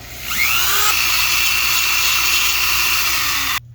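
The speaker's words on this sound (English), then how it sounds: "I'm going to clean it up a little bit with our Dremel." A Dremel rotary tool cleans up a punched hole in a prop weapon grip, a loud, steady high-pitched whine that ramps up and holds for about three seconds before cutting off abruptly.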